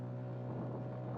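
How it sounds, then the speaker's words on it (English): An outboard motor on a sailing boat drones at full throttle with a steady low hum, continuous and close, with some wind noise over it. "There's no adjustment on the outboard. It's just flat out or nothing."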